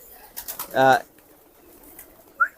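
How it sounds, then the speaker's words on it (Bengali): A single low, throaty coo from a domestic pigeon rises briefly against quiet background, with a few faint soft sounds before and after. "সব কবুতরই দেশি কবুতর"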